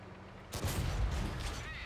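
A HEAT round strikes a tank in World of Tanks, a sudden loud impact boom that breaks a quiet stretch and then rumbles and fades over the next second.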